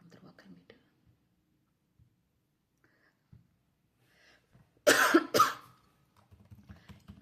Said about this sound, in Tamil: என்னாச்சுன்னு தெரியல, இருமல் வந்துட்டே இருக்குது.